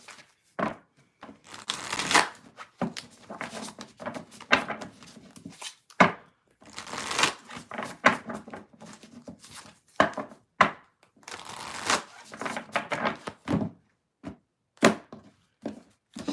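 Tarot cards are shuffled in repeated papery swishing and crisp riffling bursts, close and fairly loud, with short pauses between shuffles and no talking.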